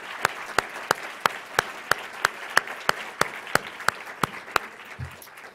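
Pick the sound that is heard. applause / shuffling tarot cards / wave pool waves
applause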